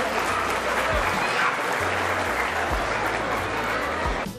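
Sustained applause from a gala audience honouring a sponsor, steady and dense throughout, with faint low tones running underneath.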